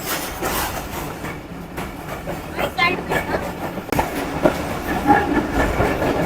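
A train travelling from Lahore to Rawalpindi rumbles steadily with rhythmic clickety-clack of wheels on rail joints, heard from on board at moderate loudness, with faint voices in the background.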